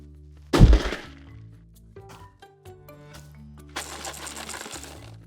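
A small object rattles inside a gift box as it is shaken, with a loud thump as the box is dropped at the start, followed by intermittent clicks and a burst of close, dry rattling near the end.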